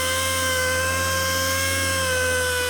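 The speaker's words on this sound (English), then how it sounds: "I'm going to move the polisher around a little bit quicker than I normally would." A machine polisher compounds the paint of a BMW F10 M5 with Meguiar's M101, giving a constant, close, high-pitched electric whine with a steady hum underneath and no pauses or speech.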